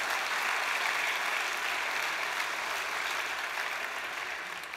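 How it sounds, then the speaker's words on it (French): Sustained audience applause fills a hall during a political speech by Martine Aubry in Strasbourg, a steady, dense wash of many hands that slowly tapers toward the end. "vous pouvez l'applaudir"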